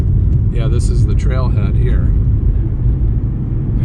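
Steady loud low road rumble fills the cabin of a car driving along a main road near Falls Lake, with people talking over the engine and tire noise.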